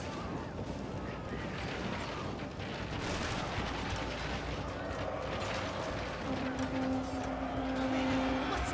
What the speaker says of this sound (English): You can open fire from where you're at.